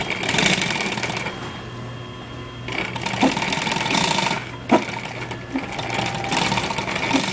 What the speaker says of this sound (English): Stitch the two pieces together, keeping firm pressure on both pieces of fabric.